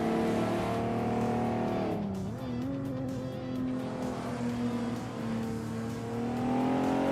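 Race cars on Barber Motorsports Park in a racing video game, including a 1993 Lancia Delta HF Integrale, with a steady engine drone and pitch shifting as revs drop and climb again.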